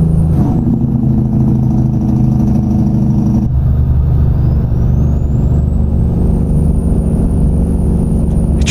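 A Cummins N14 truck engine rated at 525 hp with a 13-speed transmission, simulated in American Truck Simulator, drones loud and steady. It shifts gears partway through, then pulls again with a rising whine.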